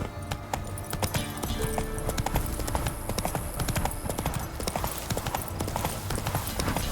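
Horse hooves gallop in The Witcher 3, a fast, rhythmic clip-clop that runs continuously and close, with a brief neigh and faint game background underneath.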